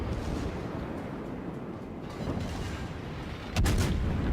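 Heavy naval gunfire rumbles in a World of Warships battle, with a continuous dense roar of distant cannon fire and a sharper, louder salvo near the end, no talking.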